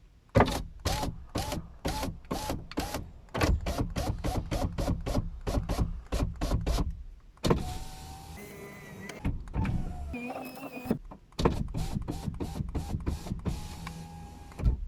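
A Fiat Fiorino's electric power window motor whirs through rapid repeated short bursts during a window switch test, then runs in longer continuous strokes with a rising whine, close and clear with no talking.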